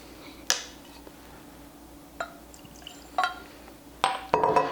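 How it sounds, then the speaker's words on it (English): Strong 119 proof whiskey poured into a glass, heard as a few sparse clinks and splashes in a quiet room, ending in a brief burst of liquid pouring. "let's go ahead and pour this"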